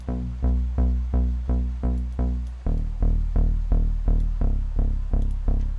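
Deep synthesizer bass notes pulse in a steady rhythm, each one hitting hard and decaying quickly, shifting lower partway through, with no voices.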